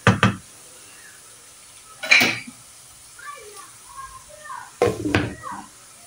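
A lid knocked onto a pot of cooking potatoes, three sharp metallic clatters spaced apart, close, with faint voices murmuring between them.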